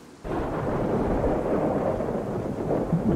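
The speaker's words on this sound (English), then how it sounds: "So we've got some thunder and lightning going on." Thunder rolls through a DayZ game world, a long, loud, continuous rumble starting abruptly after a short quiet moment and sustaining steadily throughout, with faint rain-like texture underneath and no talking.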